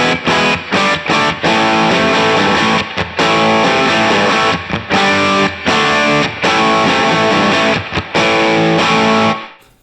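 Electric guitar played through a Rat-style distortion pedal in Universal Audio Paradise Guitar Studio, filter turned up, distortion lowered and front-end volume boosted, giving loud, saturated chords and riffs with brief choppy gaps before ringing out at the end.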